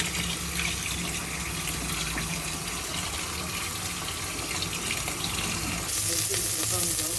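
Ginger, lemongrass and onion sauté in a hot pan with a steady, close sizzle and frying crackle throughout, growing a little brighter near the end.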